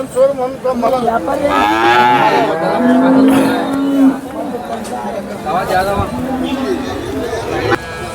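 A cow lets out a long, loud moo nearby while people chatter and talk in the background of a busy outdoor cattle market.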